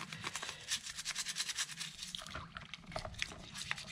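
A nylon brush scrubs second-stage scuba regulator parts around threads and the exhaust valve, giving a quiet run of rapid, rhythmic bristle strokes close by, with no talk over it.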